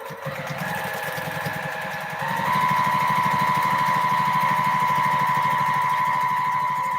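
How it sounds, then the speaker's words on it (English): A sewing machine stitching a quarter-inch seam in fabric, running at a steady fast mechanical rhythm that gets louder and higher after a short slower start, with no talking. "then you come in and you sew a 1/4 inch seam allowance"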